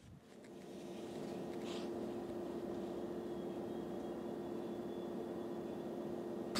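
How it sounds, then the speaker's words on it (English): A DJI Power 1000 portable power station runs with a steady, quiet hum and faint fan noise recorded up close, constant and unchanging throughout with no voices. "I'm going to put the microphone up to the unit so you guys can hear."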